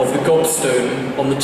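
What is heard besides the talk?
No everyday noises stand out.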